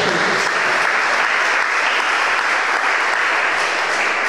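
Loud, continuous hand-clapping rises from a congregation at a Christian wedding ceremony, a thick, steady applause that holds without pause.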